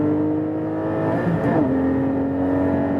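The naturally aspirated engine of a 2020 Porsche 718 Cayman GT4 holds a steady, loud tone with a brief pitch shift midway, likely a gear change under acceleration, with no talking.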